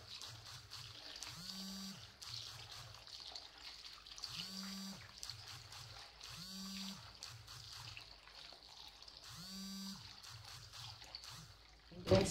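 Tap water runs steadily over beans in a sieve, a faint, continuous trickling splash with low, muffled, recurring sounds under it.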